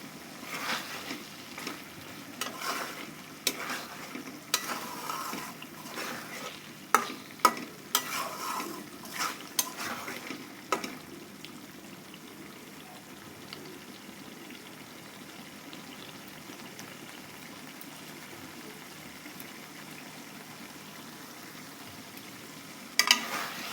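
Four whole green chillies fry in oil for an egg masala, a soft crackling sizzle with stirring scrapes and bumps over the first half, then settling into a quiet, steady fizz.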